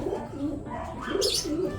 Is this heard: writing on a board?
no